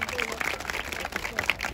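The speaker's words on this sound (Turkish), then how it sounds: "Alkışlar gelsin efendim." A crowd at a wedding in Zonguldak breaks into scattered clapping and applause under loud talk and voices, the claps irregular and fairly close.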